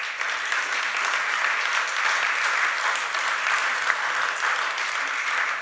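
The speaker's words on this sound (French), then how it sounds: "Je pense qu'on peut les applaudir à nouveau." An awards ceremony audience applauds steadily, a dense wash of clapping that carries on evenly throughout.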